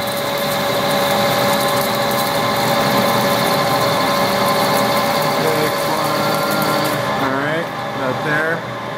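A metal lathe runs with a steady high whine and hum while turning the front of a part down to pilot diameter, a continuous machining drone with people talking over it.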